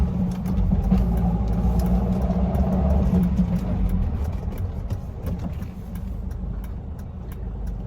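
A 1977 Mercedes-Benz 240D W123 diesel engine runs steadily during a test drive in Alameda, California, with a low, continuous drone, a slight swell near the start and a gradual easing, and no voices.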